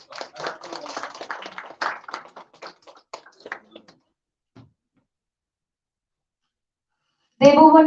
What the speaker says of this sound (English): let us give our big round of applause for